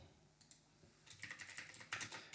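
A computer keyboard being typed on to enter an SQL query: a faint couple of taps, then a quick, close run of clicky keystrokes.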